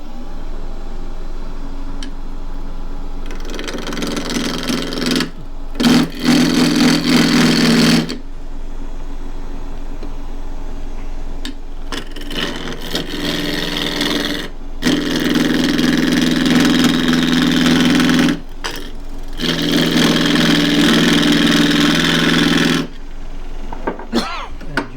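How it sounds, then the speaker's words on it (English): Half-inch spindle gouge roughing down a cross-grain wood tube on a lathe, loud rough tearing cuts in several multi-second bursts over a steady motor hum, with quieter gaps between passes. "I'm going to rough down this with a 1/2 inch spindle gouge,"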